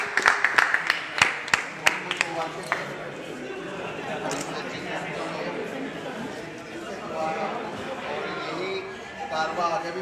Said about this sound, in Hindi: एक बार जोरदार तालियां हो जाए प्लीज।